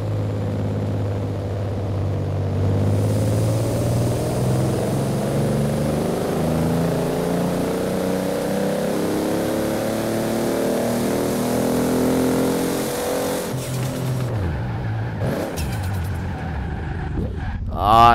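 A human voice imitates a Toyota Supra with a sequential turbo setup revving, a sustained buzzing engine tone that climbs steadily in pitch through the gears and ends in short breathy bursts.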